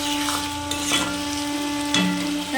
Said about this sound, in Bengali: আর কষিয়ে নিচ্ছি এরকমভাবে